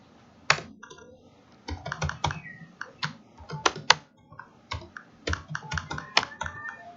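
Clacking of a computer keyboard as HTML code is typed, quick bursts of keystrokes broken by short pauses, close up and clear, with no voices.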